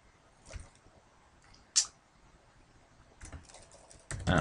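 Typing on a computer keyboard heard up close and quiet, with scattered single key clicks and short bursts, ending in a quicker flurry of keystrokes.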